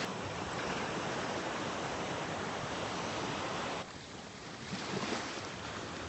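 Ocean waves at Hendry's Beach in Santa Barbara on a foggy morning, a steady broadband wash of surf with wind rumble that dips briefly near the end before swelling again, no talking.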